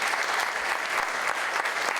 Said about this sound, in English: I'm letting you applaud the opening statements